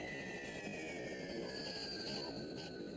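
Steady rumbling rail noise with high metallic squealing tones running throughout, like train wheels grinding along tracks, continuous and fairly loud.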